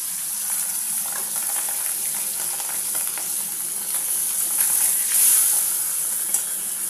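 Fish frying in hot oil, a dense, constant loud sizzle and crackle up close with a brief surge of hissing near the end, no voices.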